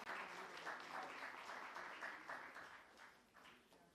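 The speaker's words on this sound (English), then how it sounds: "A big round of applause." An awards-ceremony audience claps for an honoree, a dense, steady round of applause that holds loud for several seconds before tapering slightly near the end.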